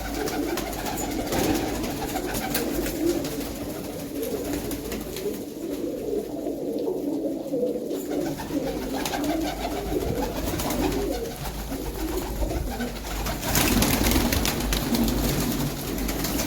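Several pigeons in a coop coo in low, throaty, overlapping calls, continuous and fairly close, with a brief flutter of louder activity near the end.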